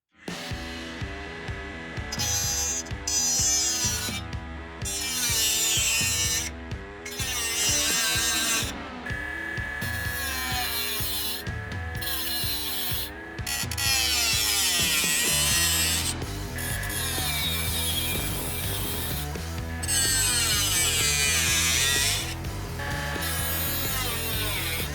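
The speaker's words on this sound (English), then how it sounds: "So the first thing we're gonna do is just do some grinding" A power grinder strips rust from a Volvo 850 body in loud, sustained bursts of whining abrasion separated by short pauses, close to the listener with no talking.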